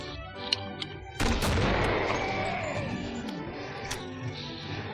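Heavy gunfire from big guns in the Killing Floor video game, a loud broadband blast erupting after a couple of sharp clicks and rolling into sustained noisy firing with a long decaying tail.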